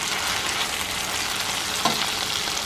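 Vegetables sautéing in salted butter in a pan for cube steak and gravy, a steady, dense sizzle throughout with one brief clink of a utensil, close and even.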